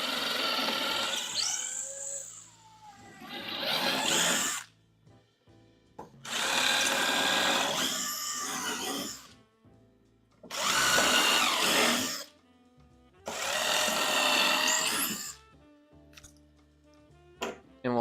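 A power drill drives screws into wooden face boards for a coffin-shaped shelf, five loud whirring bursts of a few seconds each, separated by short pauses, with no talk.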